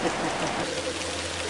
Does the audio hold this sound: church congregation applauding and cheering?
no